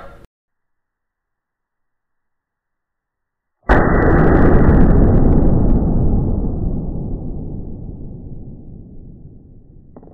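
A single loud gunshot from an old military-calibre rifle fired at a test target cracks sharply after several seconds of silence, then a long booming reverberation slowly decays.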